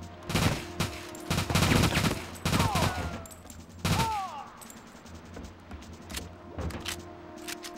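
Bursts of AK-47 fire in the shooter game The World is Not Enough, several loud rapid volleys in the first half, then sparser single shots with ricochet whines.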